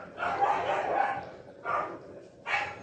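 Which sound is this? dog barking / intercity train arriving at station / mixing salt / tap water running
dog barking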